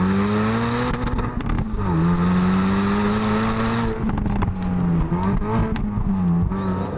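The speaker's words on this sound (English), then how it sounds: "it's got crackles and pops on the overrun" A 2018 Hyundai i30N hot hatch in N mode drives with a loud, steady engine drone that shifts pitch as it revs and eases off, with scattered sharp crackles and pops on the overrun.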